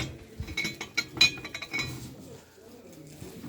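A china dinner set is handled, and its dishes give a few faint, scattered clinks and light knocks among quiet handling noises.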